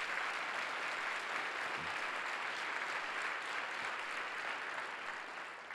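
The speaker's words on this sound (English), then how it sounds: "So let's give her a round of applause," Audience applause for a speaker at a session on race and religion in America, a dense, steady wash of clapping heard from some distance, fairly quiet and tapering slightly at the end.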